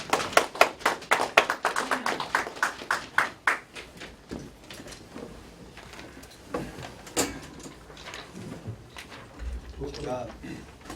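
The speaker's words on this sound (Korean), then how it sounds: "우리 박수로 환영합시다." A church audience claps in welcome as a pastor candidate for president of the Christian Council of Korea is called up to give a campaign speech. The claps are sharp and close at first, then fade into murmuring and talk.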